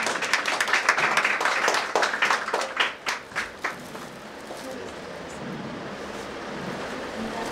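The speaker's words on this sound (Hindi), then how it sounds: "जोरदार तालियां।" A congregation applauds loudly at a prayer hall grand opening in Indore, a dense burst of clapping that peaks early, thins into a few distinct claps and then fades into ambient room noise.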